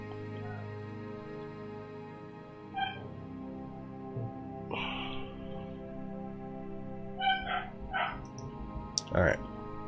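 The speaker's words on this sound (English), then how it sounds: "Such a loud dog." A dog barks several times from somewhere nearby, sharp short yaps scattered over a steady background hum, with a person talking in the room at the same time.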